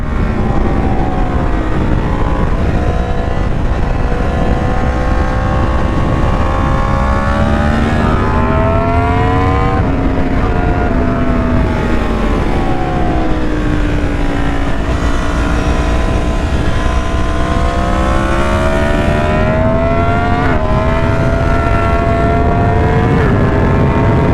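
A Yamaha MT10 motorcycle fitted with a bigger rear sprocket roars loudly and continuously from the rider's position, revving up and down through rising and falling pitch sweeps as it shifts through short gears, with no talking.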